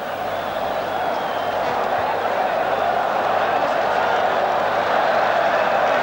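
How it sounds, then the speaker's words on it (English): A football stadium crowd at an Israel versus Australia World Cup qualifier in 1985 roars steadily and far off, a continuous wash of cheering with no break across the whole stretch. "This crowd has all of a sudden come back to life."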